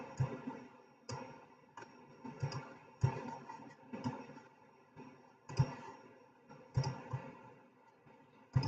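A computer mouse clicks while building a bridge model in ProtaStructure software, faint close single clicks and a few quick doubles spaced about a second apart against a quiet room.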